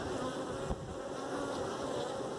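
Honeybees swarm and buzz around an open hive producing honey, a dense, steady, close drone that fills the scene without pause.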